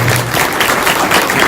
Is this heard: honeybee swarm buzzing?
no